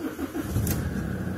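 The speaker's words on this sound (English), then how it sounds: "So, starting the engine," A car's diesel engine with Mjet common-rail injectors turns over and catches, settling into a dense, loud, rough rumble that holds steady through the short stretch, with no talking over it.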